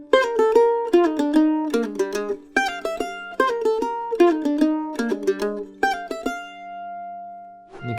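Pull-off triplet exercise for Daley's Reel played across all four string sets, quick bright plucked note clusters repeating in steady phrases, closing on a sustained ringing note, close and clear with no talking.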